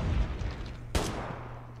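A single sharp gunshot fires in the video game Call of Duty Mobile, a short burst over a rumbling game backdrop with a low steady hum, and no one talks.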